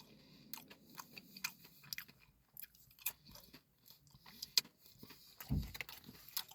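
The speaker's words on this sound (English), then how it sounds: "That's what I'm munching right now." Someone chews a homemade Taco Bell-style Mexican pizza up close, with quiet crunchy bites and wet munching clicks scattered over several seconds and no talking.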